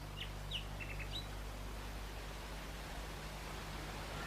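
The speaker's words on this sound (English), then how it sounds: "Do you hear the nightingale singing in the wood?" A nightingale sings in a wood, a few faint high chirps and trills early on over a steady hiss and low hum, then only quiet background noise.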